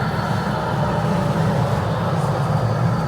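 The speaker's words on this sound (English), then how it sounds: "There's a local tram." A local tram rolls past on a wet street in Germany after heavy rain, a steady, close, continuous rumble with broad wheel and motor noise that holds level throughout, with no talking.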